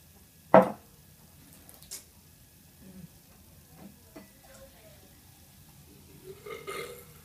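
One short, sharp burp from drinking Pepsi comes early, close and loud, followed by quiet with a few soft, faint rustles.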